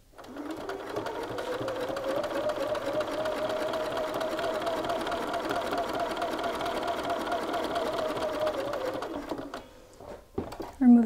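A sewing machine runs in one steady continuous burst, stitching across a shirt pocket corner, loud and close for about nine seconds before stopping, followed by brief handling noise.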